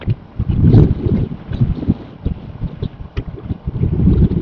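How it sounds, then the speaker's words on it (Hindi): Cold wind gusts near a river, rushing and buffeting loudly in uneven surges, with a steady low roar throughout. "यहाँ आते ही क्या ठंडी ठंडी हवा चलने लगी है"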